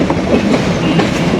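The Kapotaksha Express rolls past Jessore junction with a loud, close, steady rumble and faint rhythmic wheel clatter, no talking.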